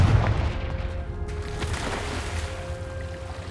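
A Confringo blasting spell cast in Hogwarts Legacy: a loud fiery boom at the start that trails off into a rumbling decay with lingering ambient tones, no talk over it.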